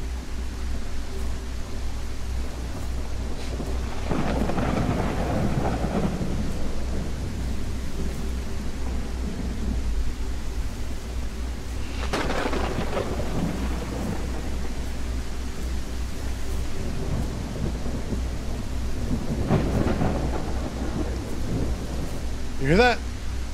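Thunderstorm with steady rain in the first-person psychological horror game Exanimum: The Silent Call: a constant wash of rainfall with three deep rolling thunder rumbles spaced several seconds apart.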